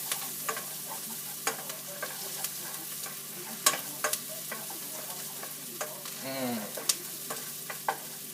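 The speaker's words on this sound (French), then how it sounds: "L'ail et les oignons qu'on a mis ici, on fait mijoter tout ça dans l'huile." Vegetables simmering in oil with garlic and onions for a vegetable pottage, a steady close sizzle with scattered spatula taps and one brief scraping stir.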